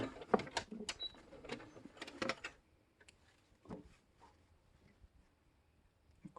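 A serger sewing machine zigzag stitches elastic onto a cloth face mask, giving bursts of quick mechanical rattling and clicking up close, then slowing to sparse, fainter ticks.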